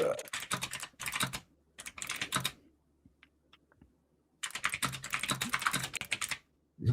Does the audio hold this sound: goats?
no